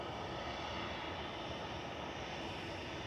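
An EasyJet airliner taxis into its stand at Manchester Airport, a steady, dense engine roar that holds unbroken and fairly loud from start to finish, with no voices.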